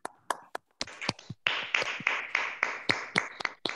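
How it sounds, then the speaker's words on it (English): Sparse, distinct hand claps at an online Toastmasters club meeting, a few separate participants clapping unevenly, close and fairly quiet, with isolated sharp claps building into a loose, irregular patter. "Please have a huge round of applause for our first speaker of the day."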